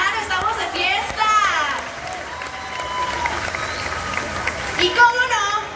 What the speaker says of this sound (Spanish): ¡Siente fuerte los aplausos, Huautzinango!